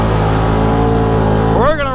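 A Can-Am Outlander 1000 ATV with its stock exhaust idles in a loud, steady drone close by, then briefly revs with a quick rise in pitch before settling.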